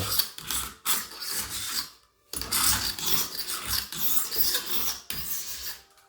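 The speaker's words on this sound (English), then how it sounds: "you can just take the tip of your blade and try to scrape it out as best you can." A blade tip scrapes paint out of the grain of wood trim in repeated rasping strokes, close and fairly loud, with short pauses between bursts and no talking.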